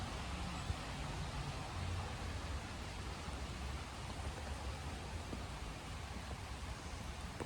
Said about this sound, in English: it is a bit of a rainy day here in Arlington